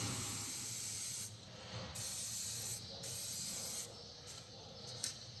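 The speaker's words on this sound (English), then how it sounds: "I'm going to give it a bit of penetrate fluid before I start." Aerosol can of penetrating fluid sprayed onto a Mercedes ML320 suspension bolt, several short hissing bursts with brief gaps, close but quiet.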